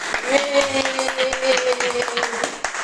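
Audience clapping heard as a rapid series of sharp, close hand claps, with a sustained singing voice carrying over them.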